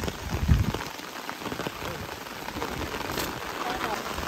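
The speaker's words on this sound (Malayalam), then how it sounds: "നല്ല മഴയാണ് കേട്ടോ" Heavy monsoon rain pours down steadily during cast net fishing in a Kerala village, a dense, continuous close-up hiss of drops hitting the surface with a brief louder patter near the start.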